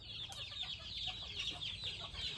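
Chickens on a farm cluck and chatter softly in a continuous low murmur, close by and fairly quiet.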